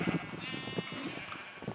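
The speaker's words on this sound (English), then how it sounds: "I killed the blue sheep." A blue sheep in the Minecraft video game bleats in a short wavering cry, close and clear over faint background game sound.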